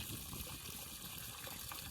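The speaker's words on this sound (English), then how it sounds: "He'll go right through the waterfall and come out the other side like Lazarus" Water rushing through a waterfall on a coastal trip in southern Italy, a dense, continuous splashing and gushing that stays at a steady level throughout with no talk.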